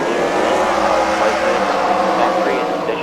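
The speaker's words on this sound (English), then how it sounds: "These cars coming off of turn 3 and 4" Race cars at a Freedom Factory fight-night event coming off turns 3 and 4, a loud, continuous engine roar with layered droning tones and no clear breaks.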